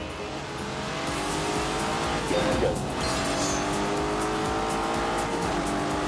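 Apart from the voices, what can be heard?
Lamborghini V8 car driving in The Grand Tour video game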